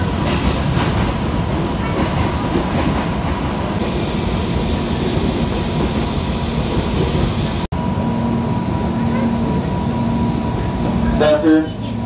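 A KRL commuter train in Banten, Indonesia rolls steadily along the rails with a continuous rumble and faint clatter, a brief sharp dropout midway, and a squeal near the end.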